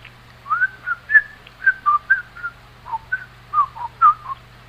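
A person whistles a chamamé tune, a clear, close melody of short sliding notes in a lilting rhythm with brief gaps, alone over a faint steady hum.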